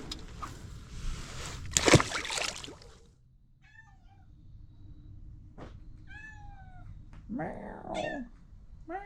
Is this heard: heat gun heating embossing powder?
no